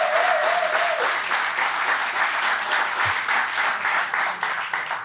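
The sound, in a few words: audience applause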